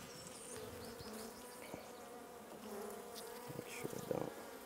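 Honey bees buzzing around an open beehive during a short-distance hive move, a dense continuous drone of many insects close by with a few louder passes, no talk.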